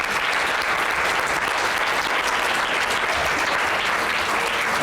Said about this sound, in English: And that was a tepid applause.